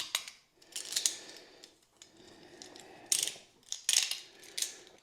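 A sharp knife cuts a gasket out of cork sheet during a fuel tank repair, making close, repeated crunchy scraping strokes with short pauses between them.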